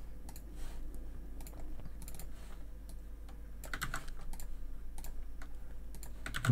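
A computer keyboard being typed on at a desk, scattered quick keystrokes in short clusters with brief pauses, fairly close, over a low steady hum.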